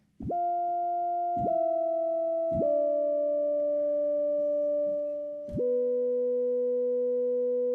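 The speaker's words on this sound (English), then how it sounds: "a sine wave is just so quiet by itself" Steady pure synthesizer sine wave tones held in a sequence of notes, each starting with a small click, smooth and sustained with two tones stacked together.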